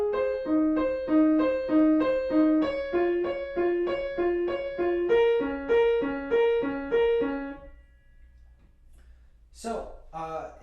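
A piano plays a song, a simple melody over steady repeated chords with both hands for several seconds, then stops and a voice begins speaking.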